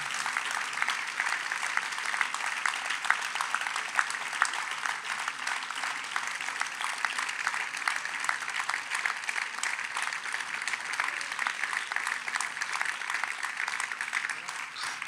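Sustained audience applause after an evening lecture on eudaimonia and the myth of happiness, a steady dense wash of clapping from a large crowd that holds at an even level for the whole stretch.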